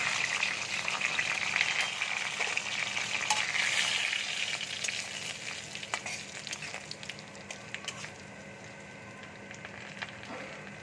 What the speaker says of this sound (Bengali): এবার আমি তেজপাতা দিয়ে দিচ্ছি, নারকেল কোড়া দিয়ে দিচ্ছি